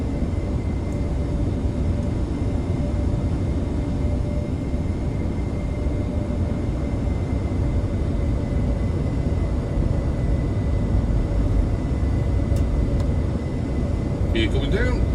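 A Top Mach F-22A Raptor jet in a flight video game gives a steady, loud engine roar and rumble that holds evenly throughout, with no pauses.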